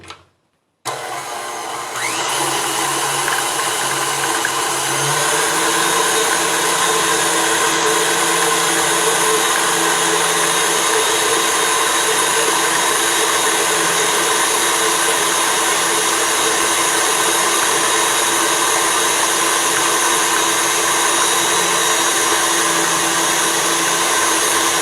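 An electric mixer beats butter and sugar into a cream for a grandmother's pineapple cake, a loud, steady motor whine that starts after a short pause and runs unbroken to the end.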